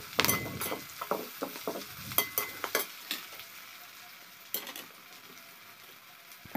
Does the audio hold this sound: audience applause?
no